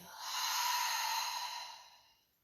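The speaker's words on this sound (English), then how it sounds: "Exhale out of the mouth." A long slow exhale through the mouth during a yoga class, one breathy airy sigh that swells and fades over about two seconds, close and soft, with no talking.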